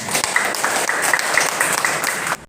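An audience at the opening ceremony of a 2022 computer office-applications training course bursts into loud, dense applause that holds steady for over two seconds, then cuts off abruptly.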